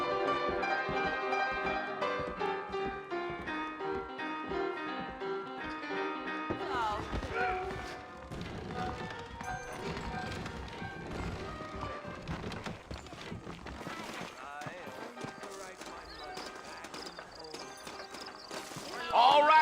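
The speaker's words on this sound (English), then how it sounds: "I got the horses saddled up and ready out front." Horse hooves clip-clopping at a steady walk in the video game Red Dead Redemption, beneath music and voices, the rhythmic clopping continuing through most of the stretch.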